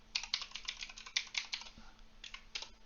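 Computer keyboard typing code, rapid soft key clicks in short bursts with a brief pause before a final few taps, close and quiet with no talking.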